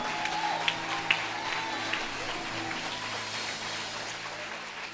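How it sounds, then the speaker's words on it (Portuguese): A church congregation applauds as a broad, fairly quiet wash of clapping with a few sharper claps, steady throughout. "Você pode aplaudir o Senhor?"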